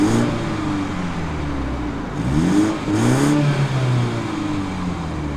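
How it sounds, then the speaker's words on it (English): A 2017 BMW 430i coupe, the base 4 Series engine, idles steadily nearby and then gives two quick throttle blips that rise and fall back to idle, close and fairly loud, with no voices. "let's start up the engine here so that you can listen to that."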